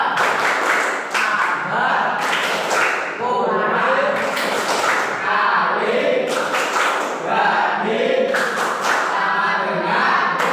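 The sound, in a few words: class doing the tepuk matematika clapping chant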